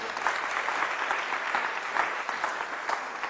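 Sustained audience applause welcoming lecturer Orlando Figes at a talk on revolutionary Russia, a steady dense wash of clapping across the whole stretch with no voices over it.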